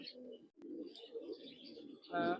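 Racing pigeons in a loft, soft throaty cooing calls repeating close by at low volume, with a sharp click early on and a louder, fuller coo toward the end.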